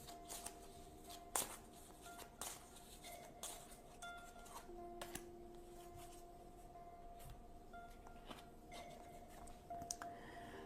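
Tarot cards being shuffled and drawn by hand, with soft repeated riffles, slides and light taps spread across the span, close and quiet, no voices.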